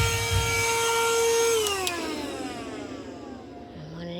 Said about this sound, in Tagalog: Portable ra ni akong vacuum.